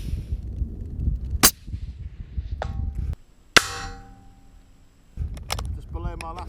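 A long range rifle fires a single sharp, loud shot with a brief ringing tail amid outdoor wind noise, preceded by a smaller crack and followed by metallic bolt clatter.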